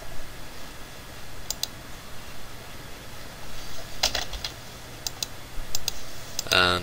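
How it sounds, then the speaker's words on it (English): Computer mouse clicks and keyboard typing during software installation on an Ubuntu Linux desktop: a few sparse, faint clicks, then a short burst of quick keystrokes near the end, over a steady low hum. "And type in your name and click Next."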